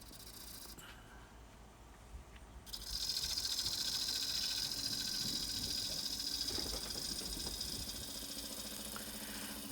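A dry wood bowl spins on a wood lathe as the tool cuts it into short shavings. A low, quiet hum gives way to a steady, close cutting hiss that continues to the end.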